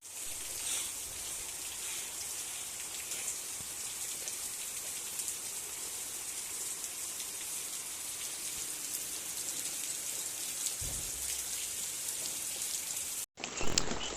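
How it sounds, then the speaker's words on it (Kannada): Rain pours steadily around a home, an even close hiss of drops on surfaces lasting without any talk before an abrupt cut at the very end. "ಸೊ ಇವಾಗ ಮಳೆ ಬರ್ತಾ ಇದೆ."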